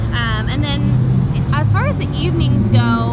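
Road traffic hums steadily behind someone speaking close by, a continuous low vehicle rumble with cars passing under her voice.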